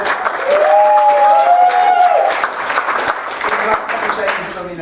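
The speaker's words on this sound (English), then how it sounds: "everybody give him a round of applause" An audience breaks into a dense round of applause at a comedy performance, loud and sustained before easing off, with a voice and a whistle-like tone briefly over it.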